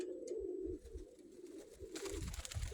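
Low, soft cooing from a pigeon repeats in a steady rolling rhythm, close and fairly quiet, with faint background noise.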